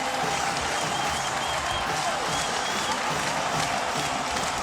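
A dense, roaring stadium crowd cheering and applauding as fans pour onto the field after Boston College's upset win over USC in college football, sustained and loud with no distinct individual voices.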